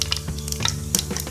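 Cumin and fenugreek seeds sizzle in hot oil for a curd dish tempering, a brief, close crackling fry with small popping bursts and no voices.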